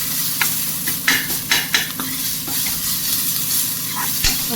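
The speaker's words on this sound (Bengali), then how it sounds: "এবার পেঁয়াজটা ভেজে নিচ্ছি পেঁয়াজ আদা রসুনটা" Onion, ginger and garlic frying for aloo chop make a loud, close sizzle broken by repeated clattering stirs of a spatula against the pan.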